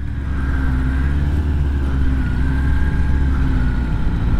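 A Kawasaki ZX10R sport motorcycle rides at low town speed, its engine a steady, close droning hum with only slight throttle changes, wrapped in constant wind rush.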